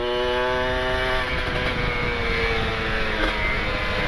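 A Kawasaki Ninja RR motorcycle rides through busy traffic, its engine revving and shifting pitch up close over a constant road and wind roar.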